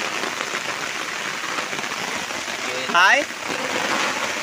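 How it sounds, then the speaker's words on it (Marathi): Steady rain falls outdoors during a crab-catching outing, a constant loud hiss with a brief voice calling out partway through. "आता मित्रांनो पाऊस बघा"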